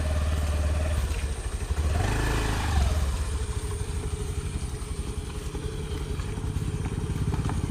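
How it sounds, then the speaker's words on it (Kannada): A scooter engine runs steadily while riding out to cut grass, a continuous mid-pitched drone with a brief swell of revving partway through, close and even throughout. "ನಾನು ಕೂಡ ಹೋಗ್ತೇನೆ ಸ್ಕೂಟಿಯಲ್ಲಿ"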